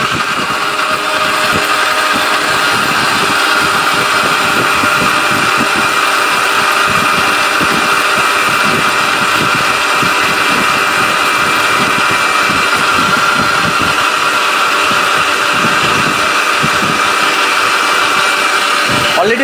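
A Briko Tufan three-jar blender grinds chillies into a paste, giving a loud, steady motor whir with a rough grinding texture that runs unbroken from start to finish.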